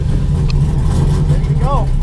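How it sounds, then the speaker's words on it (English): An LS3 V8 swapped into a Nissan 240SX competition drift car fires and holds a loud, close, low rumble throughout. A voice is briefly audible over the engine. "Kill switch here, ignition. Start."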